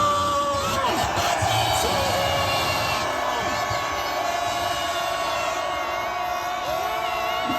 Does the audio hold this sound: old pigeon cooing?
no